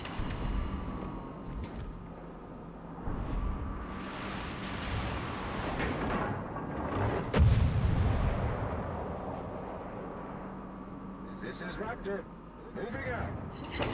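Naval guns fire in World of Warships cruiser gameplay, giving a few muffled booming blasts and rumbling impacts under steady commentary talk.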